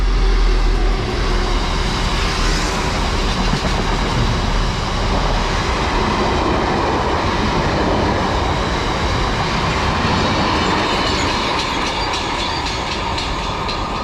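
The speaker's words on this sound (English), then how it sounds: "about to come through now is going to be a Class 66 Freightliner one" A Class 59 freight locomotive, number 59206, rumbles loudly and steadily through a West Sussex station, its wagons producing a continuous rolling clatter with rhythmic wheel clicks for the whole stretch, close by and with no voices.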